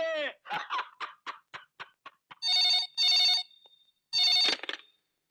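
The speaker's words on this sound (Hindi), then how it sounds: "ओ सर, गुलशन का फोन।" An old-style telephone bell rings in three sharp, loud bursts, with rapid speech leading in just before the rings.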